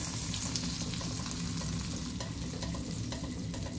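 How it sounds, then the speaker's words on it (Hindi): Butter melting in a kadhai for suji halwa gives off a steady, dense sizzle and crackle, close and fairly quiet, with no voices. "अब एक कढ़ाई लेंगे हम, इसमें ये जो बटर है 1 कप ये डाल देंगे, इसको मेल्ट करेंगे"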